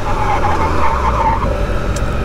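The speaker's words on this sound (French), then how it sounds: "On va essayer de faire un freinage un peu appuyé" A Can-Am Spyder RT three-wheeler brakes hard on the road, with loud, steady tire and road roar and engine rumble, and a brief higher squeal near the end.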